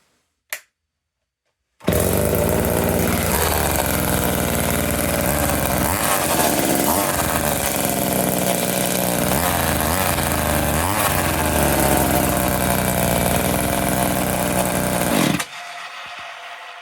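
A MAC 10-10 chainsaw with a newly installed ignition chip and no chain fitted starts after a brief click. Its engine then runs loud and close with a steady buzzing roar for about fourteen seconds before cutting off.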